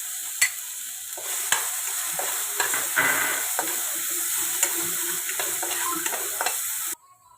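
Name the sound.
ground green chili paste frying and stirred in oil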